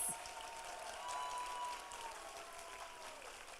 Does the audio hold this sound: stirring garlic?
no